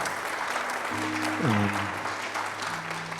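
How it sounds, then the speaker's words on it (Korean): Congregation applauding for a missionary to the Philippines at a Korean church revival service in San Francisco, a steady wash of clapping with a sustained musical tone and brief voices running underneath. "우리 선교사님께 박수의 응원에"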